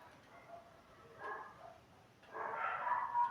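Dogs bark in the distance in a few scattered, fairly faint bursts, the last one longest and loudest, over a low background with possible faint talk.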